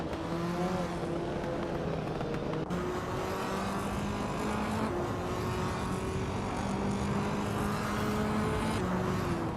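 Several racing car engines drone and whine together in a video game race, one of them a 2017 Audi RS 3 TCR, with steady overlapping engine tones shifting pitch as cars jostle for position, loud and continuous with no talking.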